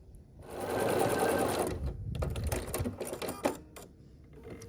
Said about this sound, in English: So I just sew this together as I would a 4 patch.